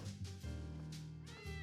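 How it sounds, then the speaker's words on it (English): Several cats meow in quick succession in Tales of Xillia 2, short, clear, close meows with no talk over them. "I'm gonna check on the cats before we head"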